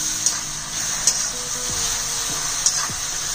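Tomato puree poured into a pan of moong pulao, setting off a steady close sizzle with a few sharp pops and stirring scrapes, and no voices.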